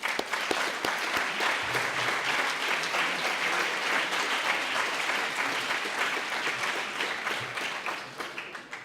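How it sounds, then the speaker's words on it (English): A conference audience applauds a minister taking the stage at an environmental annual meeting, a dense, steady wash of many hands clapping that holds for about nine seconds and thins slightly toward the end. "Please welcome him with an applaud."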